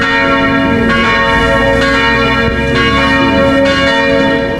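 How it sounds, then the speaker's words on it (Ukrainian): Christmas church bells chime at noon, a dense, loud, continuous peal of overlapping strokes ringing without pause and with no voices. "Перший шматочок святкового пирога відрізають під різдвяний передзвін рівно о"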